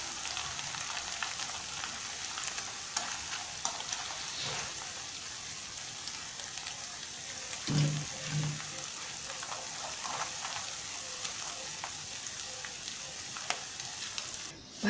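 Potatoes frying in hot oil, a continuous dense crackling sizzle that stays steady and close, with a brief clunk of cookware partway through.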